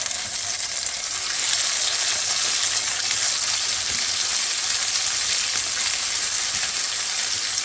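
Tomato slices fry in hot olive oil in a pan, giving a steady, close sizzle with soft crackling that keeps up evenly throughout.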